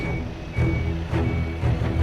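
A 54-foot truck and trailer backing down a narrow country road, its reversing alarm beeping steadily at a regular pulse over a low diesel rumble, close and loud.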